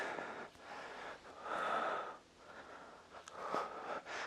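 Forceful exhales during an abdominal exercise, a few breathy puffs and sniffs rising and falling in steady rhythm, close and fairly quiet with no talking.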